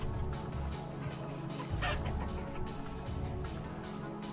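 A hen clucks steadily in the Vintage Story primitive-survival game, set against a dense, continuous farmyard background with no voices.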